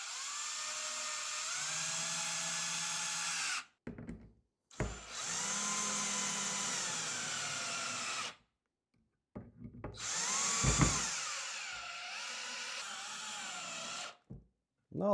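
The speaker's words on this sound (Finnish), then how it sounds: "Ja kun ne on kohillaan, niin sit vaan varovasti ruuvataan kiinni." A power drill drives screws to fasten a deer trophy skull to its mount, whining in long sustained runs broken by brief pauses and short bursts, loud and close with no talk.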